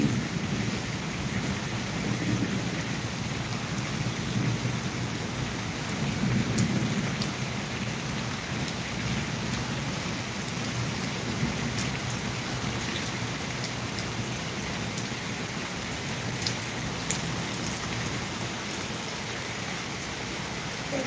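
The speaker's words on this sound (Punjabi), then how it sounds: "ਤੇ ਮੀਂਹ ਵੀ ਨਾਲ ਨਾਲ ਪੈ ਰਿਹਾ ਵਾ" Steady rain falling through a thunderstorm, a broad continuous wash of drops with low rumbling swells of thunder, nearby and unbroken, with no one speaking.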